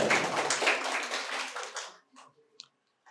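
An audience at a quiz competition at Santiniketan Medical College and Hospital claps steadily for about two seconds. The applause then thins to a few scattered claps and fades out.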